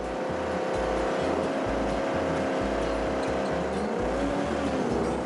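A homemade scrapheap racing vehicle grinds slowly up a muddy hill on its rear engine alone, a low, throbbing engine drone with a steady pulsing beat that holds at a constant strain.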